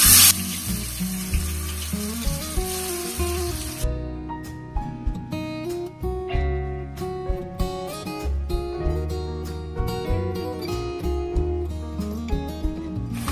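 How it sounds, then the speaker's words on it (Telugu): Chicken pieces sizzle and spatter in hot oil in a kadai for Thums Up chicken, a loud burst of frying at first, then continuous crackling with frequent sharp pops, close and steady, with no talking. "ఇప్పుడు చికెన్ మొత్తం ఒకేసారి కాకుండా ఒక్కొక్క ముక్క వేసుకోవాలండి"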